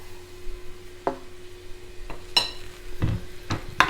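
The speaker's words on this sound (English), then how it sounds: "I'll go ahead and add in our coconut oil." Coconut oil going into a heated pan, giving soft sizzling and a few sharp clinks and scrapes of a utensil against the pan, close and fairly quiet over a faint steady hum.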